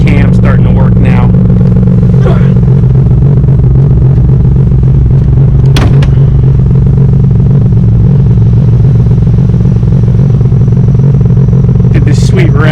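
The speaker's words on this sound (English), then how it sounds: "You can hear the cam starting to work now." A modified car running on E85, 630 horsepower to the wheels, idles with a loud, steady low rumble that holds throughout, the cam beginning to lope, with a couple of brief sharper blips near the end.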